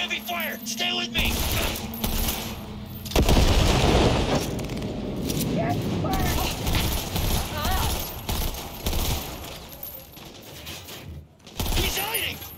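Video game gunfire against enemies, with rapid bursts of shots and booms mixed with in-game voices shouting, dense and loud over most of the stretch with a short lull near the end.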